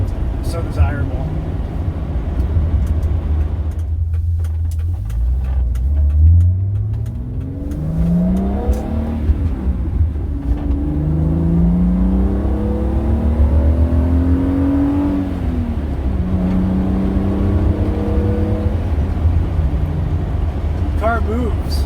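A BMW E28 535is accelerating on the road, its engine note rising through gears in repeated upward sweeps with steady road and cabin noise, loud and close from inside the car.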